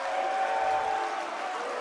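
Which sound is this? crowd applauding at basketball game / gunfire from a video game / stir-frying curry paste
crowd applauding at basketball game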